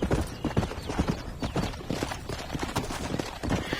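Horse hooves in the game Red Dead Redemption clip-clop steadily and fairly close, a brisk rhythmic trot with busy background noise and no talking.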